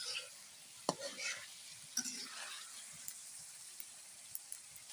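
Lightly steamed green vegetable stems are stirred in a frying pan, giving a faint sizzle with a few sharp scrapes and clinks of the spatula against the pan, no talk.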